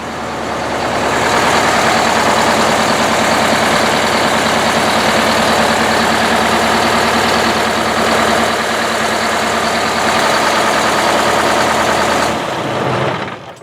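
A heavy diesel bus engine idles steadily and loudly nearby, a constant low rumble that cuts off abruptly near the end when switched off.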